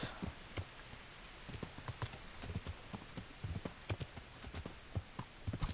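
Horse hooves clip-clop steadily on the ground in the medieval game Kingdom Come: Deliverance, a brisk, even gait of sharp, close hoofbeats with no talk over them.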